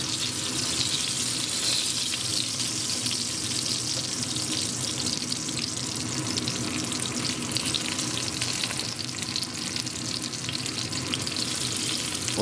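Garlic dropped into a hot pan with country-style beef ribs sizzles and fries steadily, a dense, loud crackling hiss that stays constant for the whole stretch with no voices over it.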